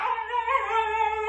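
A dog whimpering in a steady, high-pitched whine that holds for over a second, close and fairly loud with no talking over it.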